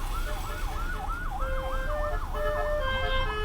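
An ambulance siren wails with a fast rising-and-falling tone in flooded, jammed traffic between Semarang and Demak, a second siren tone joining partway, over steady road rumble.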